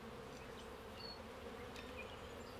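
Russian honey bees hum in a steady dense drone as the hive's frames are checked, with a constant close buzz and occasional higher whines from individual bees passing by.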